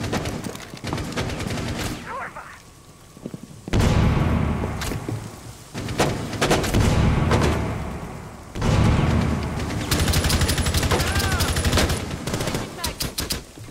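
Gunfire in the Rainbow Six Siege video game: loud, rapid automatic bursts and single shots coming in repeated waves with brief pauses between them, mixed with people talking.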